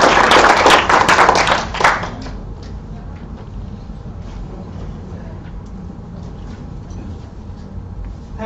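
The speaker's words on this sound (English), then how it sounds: "please join me to give a big round of applause to Dr." A lecture audience applauds for about two seconds, loud and dense, then the clapping ends and only faint room noise remains.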